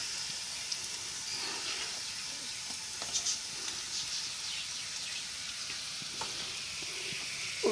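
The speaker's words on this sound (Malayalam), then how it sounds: "ഉള്ളി മൊരിയണമല്ലോ, മൊരിയട്ടെ." Onions fry in oil for a fish curry, giving a steady close hiss and crackle of sizzling with a few small pops and no talking.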